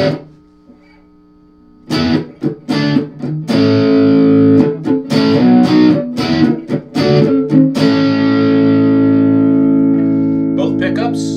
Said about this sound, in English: now I'm going to put some distortion on the guitar.